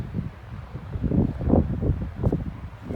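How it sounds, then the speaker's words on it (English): Gusty wind buffets the microphone outdoors in snowy winter mountains near Elbow Lake in Kananaskis, a low rumbling roar that swells and fades in irregular surges. "it's pretty windy"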